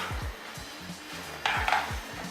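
Kale-like greens stirred into a pot of vegetables, soft scraping and a few light metallic clinks of a utensil against the pot, close and brief, no talk.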